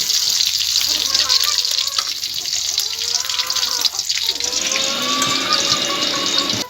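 Eggs sizzle in hot oil in a pan while they are lifted out, a steady loud bubbling hiss with a few faint scrapes, and a voice speaking quietly underneath.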